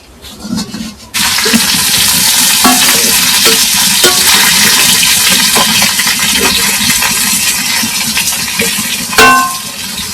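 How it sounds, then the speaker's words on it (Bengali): Fish fry loudly in a pan with a steady, dense sizzle, broken by a few clinks and scrapes as the pieces are turned over, and a sharper clatter near the end; no voices. "তো এখন মাছগুলো উল্টাই দিতেছি।"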